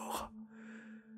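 A sharp, audible breath is drawn in at the start, then fades into a quiet background with a steady low hum; a single deep inhalation, close and fairly loud, with no speech.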